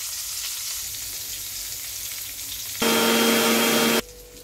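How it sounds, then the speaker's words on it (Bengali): Pieces of pointed gourd (potol) frying in oil in a pan, a steady close sizzle that is suddenly drowned by a loud droning hum for about a second before the frying returns. "সবার প্রথমে আমি পটলগুলোকে একটু ভেজে নিচ্ছি"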